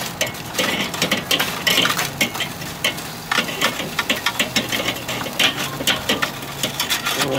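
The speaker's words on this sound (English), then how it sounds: "just gonna stir up these coals a little bit" Charcoal coals are stirred in a Slow N Sear insert on a grill, a run of crunchy scraping and clinking bursts in an irregular rhythm, close and fairly loud.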